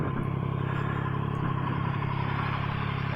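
A Yamaha Tracer 9 GT motorcycle idling up close after starting, a steady low throbbing engine rumble with a fine rhythmic pulse and no revving.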